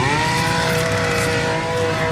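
A car with a Seat badge pulls up close by, its engine a loud steady drone with a tonal whine held throughout.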